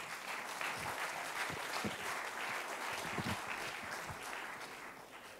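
An audience applauds after a startup pitch at a web festival's startup contest: steady, dense clapping from a crowd that holds at an even level for several seconds, then fades slightly at the end.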